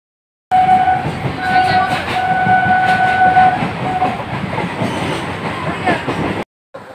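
A train rolls along the rails with a steady, loud rumble and rhythmic clatter, close by, with sustained horn-like tones in the first half before the sound cuts off.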